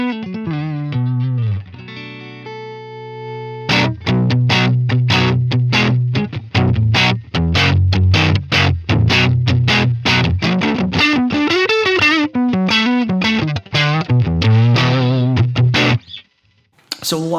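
Electric guitar played through a Line 6 Helix overdrive block at default settings, giving a driven breakup tone: a few sustained notes, then a steady run of plucked notes and chords, loud and close, ending in a brief pause.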